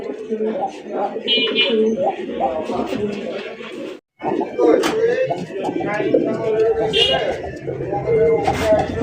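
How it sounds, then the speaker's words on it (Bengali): Large Gopalganj pigeons at a farm coo repeatedly and loudly at close range, with overlapping calls and wing flutters while people talk nearby. "গোপালগঞ্জের বড় পায়রা"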